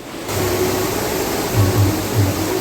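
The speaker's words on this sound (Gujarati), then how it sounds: "જો વરસાદ તો જો અવાજ આવે કેટલો વરસાદ આવ્યો" Heavy monsoon rain falls outside during an orange alert in Vadodara, a loud, steady broadband wash with a low appliance-like hum pulsing beneath it and no voices.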